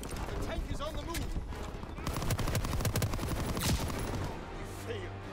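Dense gunfire and machine-gun bursts from a World War II battle in Call of Duty WW2, a steady loud fusillade with rattling volleys throughout and a heavier blast near the end, with background voices mixed in.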